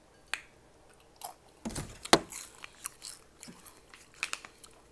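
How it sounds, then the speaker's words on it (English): A crunchy taco is bitten and chewed up close: sharp crackling crunches come in uneven bursts, with one loud bite in the middle and softer chewing after it. No one speaks. "Eat this last taco."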